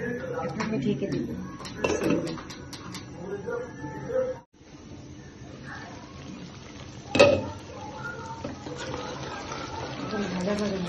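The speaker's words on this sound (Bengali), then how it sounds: "এখন ভাজা ভাজা হয়ে আসছে" Duck masala fries in a pan, giving a continuous low sizzle with occasional clinks and scrapes of a spoon stirring against metal, under someone talking.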